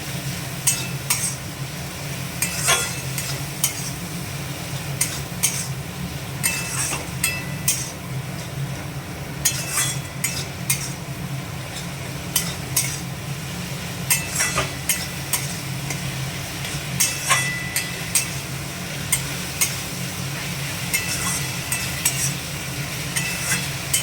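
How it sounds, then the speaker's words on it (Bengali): Garlic and onion fried and stirred in a pan for a mutton curry, a steady sizzle broken by frequent sharp scrapes and clanks of a spatula against the metal, close and fairly loud. "রসুন পেঁয়াজটাও একটু হালকা করে ভেজে নেবো।"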